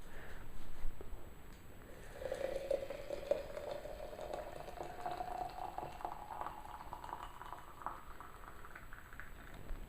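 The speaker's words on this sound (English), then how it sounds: "okay, and you fill it up with hot water" Hot water pours into a thermos over lentils, a quiet, steady trickling and hollow bubbling fill that rises gently in pitch for several seconds against a faint background hiss.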